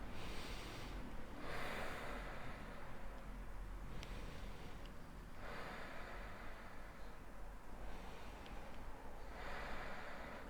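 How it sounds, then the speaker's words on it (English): Slow, deep breaths drawn in and let out, several long airy inhales and exhales spread through a quiet guided breathing exercise, close and soft with no talking. "take 3 deep breaths"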